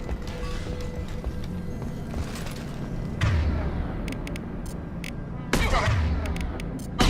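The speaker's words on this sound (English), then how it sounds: "The Blue Suns and Vorcha shooting anything that moves." Gunfire from Blue Suns mercenaries and Vorcha in Mass Effect 2, with scattered sharp shots and a couple of louder bursts over a steady rumbling combat background.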